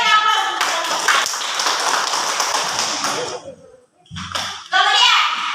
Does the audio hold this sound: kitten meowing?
no